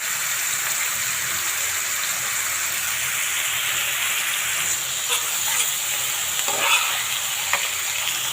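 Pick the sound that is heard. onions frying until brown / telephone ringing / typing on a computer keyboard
onions frying until brown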